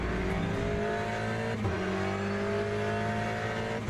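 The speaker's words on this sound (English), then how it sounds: "Bounced off the rev limiter just a little bit there." Race car engine in the Le Mans Ultimate sim racing game revving hard and briefly bouncing off the rev limiter, a loud steady high-pitched drone close up with a short stutter midway.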